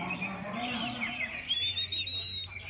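A red-headed thrush sings in a bird song contest in Buleleng, Bali, with thin, high, warbling phrases over a low hum of background noise and faint murmuring.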